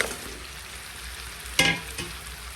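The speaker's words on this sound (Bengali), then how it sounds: "আর এখানে কই মাছ আম্মা অনেক সুন্দর করে ভাজি করে দিচ্ছি" Koi fish fry in a pan with a steady, soft sizzle, broken by one sharp scrape or clatter partway through.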